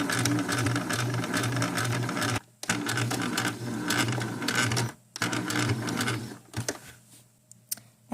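A sewing machine stitches a corset boning channel in rapid, steady bursts, stopping briefly twice between runs before tapering off into slower, sparse stitches at the end.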